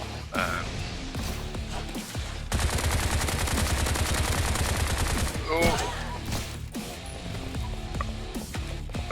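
A semi-automatic shotgun fires in the video game Bright Memory, loud rapid blasts in dense bursts, with a sustained volley in the middle and further scattered shots amid game sounds.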